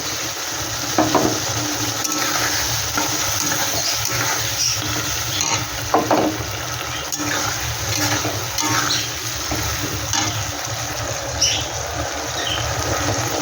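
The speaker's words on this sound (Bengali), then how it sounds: "Soya sauce, chilli sauce, tomato sauce, এটা তিনটা আমি একসাথে করে আমি এটা দিয়ে দিচ্ছি।" Soy, chilli and tomato sauces mixed with a little water hit a hot pan while making chilli chicken, giving a loud, steady, close sizzle with occasional stirring scrapes throughout and no talking.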